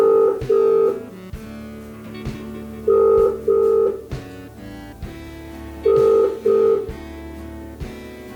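A telephone ringback tone sounds in three evenly spaced bursts, each a pair of short electronic beeps, clear and close with quiet pauses between them.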